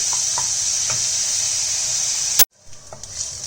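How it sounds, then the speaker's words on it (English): Onions caramelizing in a pan for a chicken dish, giving a loud steady bright sizzle with a few soft stirring taps, then a sudden cut to a quieter, gentler frying hiss. "So we'll caramelize this onion for a bit."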